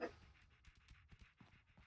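A dog pants quietly in quick, soft breaths, with a faint whimper at the start. The sound is brief and distant.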